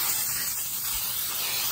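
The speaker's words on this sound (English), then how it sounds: "So I'm using Baker's Joy, but you can use a butter cooking spray too." Baker's Joy cooking spray hisses steadily from an aerosol can onto a baking pan, one continuous close spray with no talking.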